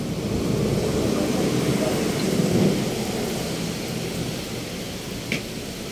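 Heavy rain pours steadily on a city street in Makati, Pasay area, a dense continuous wash of noise with low thunder rumbling underneath, close and loud throughout.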